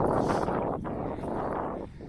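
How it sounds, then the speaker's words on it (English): Steady, loud wind buffeting the microphone, a continuous broadband rush with slight dips, no voices. "It's windy out here."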